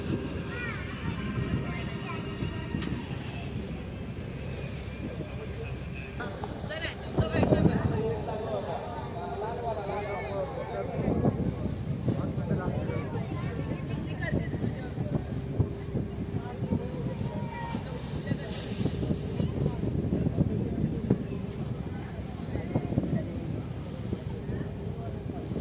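Passenger boat crossing from Mandwa port to Mumbai near the Gateway of India, with a steady engine and water rumble plus wind throughout, while someone talks over it and other voices murmur in the background.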